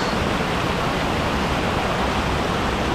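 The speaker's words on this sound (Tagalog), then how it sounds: "Ayun, meron dito sapa, maliit." A small, gently flowing stream runs in a steady, broadband wash of water noise. The sound holds even and continuous throughout with no voices.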